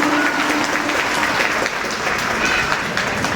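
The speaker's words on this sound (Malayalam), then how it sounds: "നല്ലൊരു കൈയടി തന്നെ ശരത് സാറിന് സമർപ്പിക്കാം പ്ലീസ് ലേഡീസ് ആൻഡ് ജെന്റിൽമെൻ" An audience at a music audio launch event applauds continuously, a dense, even wash of clapping from many hands that lasts throughout.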